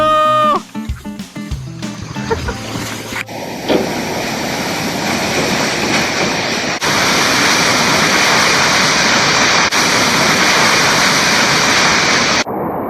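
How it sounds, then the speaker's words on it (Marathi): The KP waterfall at Khopoli roars as a loud, steady rush of falling water that fills the whole scene after a few brief knocks and handling sounds at the start. "आणि हा वॉटरफॉल खूपच सुंदर यार"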